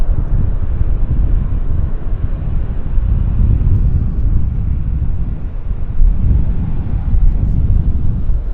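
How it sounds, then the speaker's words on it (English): A Bombardier Q400 airliner lands at Vancouver Airport with a loud, continuous low roar that swells slightly, heard amid wind noise on the microphone. "We've got a Q400 landing."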